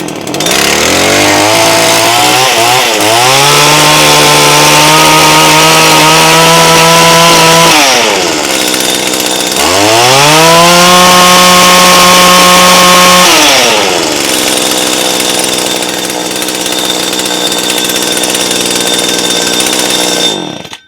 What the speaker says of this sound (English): So the choke, turn the choke on, it's all the way up